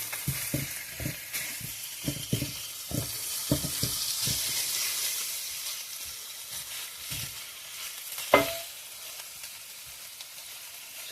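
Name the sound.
seasoned chicken thigh pieces frying in a pan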